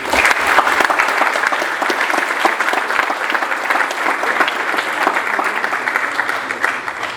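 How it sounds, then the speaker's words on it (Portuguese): Loud, sustained applause from a Tech Week audience for the event's sponsors and supporters, many hands clapping in a dense, lively wash that stays strong for around seven seconds, without speech. "Uma salva de palmas para nossos patrocinadores e apoiadores."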